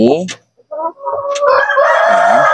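A game fowl rooster crows loudly and close by, with a drawn-out call following short clucks and a few brief voices.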